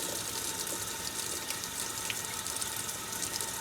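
A Maytag washing machine fills with water for its rinse cycle under reduced water pressure, giving a steady, even hiss of running water throughout, moderately loud and close, with no voices.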